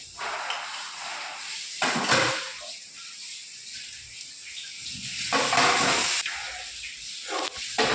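Dal is tipped into hot oil with onion and tomato and sizzles loudly and steadily nearby, with hissing, steamy frying and brief surges as it is stirred.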